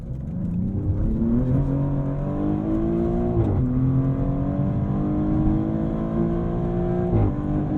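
A 2024 Maserati GranTurismo Trofeo accelerates from inside the cabin, its engine rising smoothly in pitch through several gear changes, each shift marked by a brief dip before the climb resumes, loud and steady throughout.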